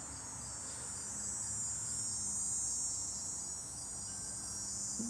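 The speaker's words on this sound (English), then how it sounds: "Well, hello there, cicada." Insect buzzing in warm weather, identified as a cicada, forms a steady, continuous high-pitched drone throughout, constant and moderately loud with no voices.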